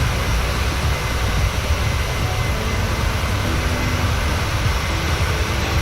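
A PMDG 737-800 airliner in United Airlines operations in Microsoft Flight Simulator, heard from outside the aircraft: a loud, continuous engine roar and rumble that never lets up, with no talking.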